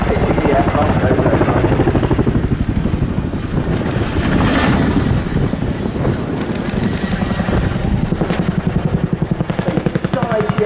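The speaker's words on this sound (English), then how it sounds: "you'll hear the Chinook's two engines offering up a massive" A twin-engine Chinook helicopter roars loud and close throughout a display flight at an air show, its rotor chop pulsing steadily over a dense, continuous engine drone.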